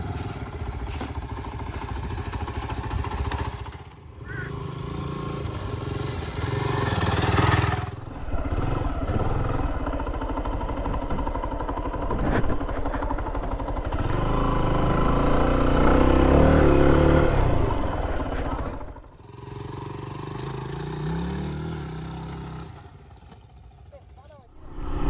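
A Zontes ZT155-U motorcycle rides through rain, its engine droning steadily with swells and dips in loudness, mixed with wind and road wash while someone talks over it.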